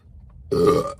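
A deep, solid burp from a woman erupts after a half-second of quiet, swelling loud and resonant for about half a second before trailing off.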